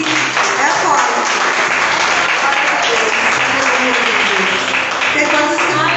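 A church congregation claps and applauds loudly and continuously during a service, a dense crowd of hands that fills the whole stretch while a voice carries over it.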